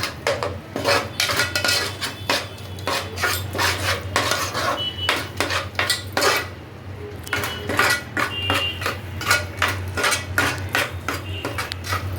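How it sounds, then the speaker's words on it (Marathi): Pav bhaji being stirred in butter in a pan over a low flame, with a spatula scraping and clinking against the metal in quick, steady repeated strokes, close and fairly loud, with no talking. "ते बटर सुटेपर्यंत परतवायचं असतं ना मंद आचेवर."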